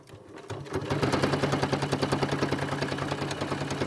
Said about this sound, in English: It's kind of loud because this fabric is a bit tough to go through. But sewing a straight line is, fairly simple.